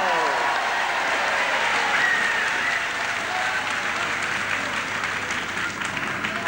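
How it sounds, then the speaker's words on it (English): An arena audience at a professional wrestling bout applauds wrestler Johnny Kwango, a dense, steady roar of clapping that fills the whole stretch at full strength, with faint voices blended into the crowd. "I'm sure everybody here will give a very big round of applause for Johnny Kwango"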